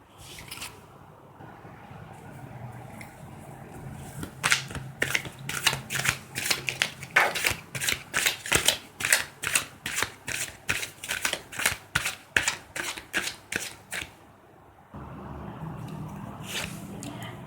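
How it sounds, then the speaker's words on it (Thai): Tarot cards shuffled by hand at close range, a quick rhythmic series of crisp riffling flicks that runs for about ten seconds between quieter handling. "เดี๋ยวเรามาเริ่มสับไพ่กันเลยนะคะ"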